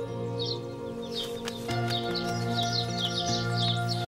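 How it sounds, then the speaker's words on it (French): Birds chirp in an animated cartoon scene, bright quick twitters repeating over a steady tonal music bed. "Oh, regarde ces oiseaux comme ils sont beaux."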